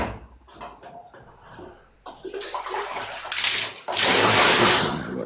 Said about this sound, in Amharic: ኖ ውሃ ብቻ ውሃ ጨምርበት።